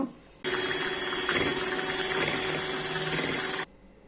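Electric beater whirring steadily through mulberry ice cream mixture, a loud continuous mechanical drone that starts abruptly and cuts off after about three seconds.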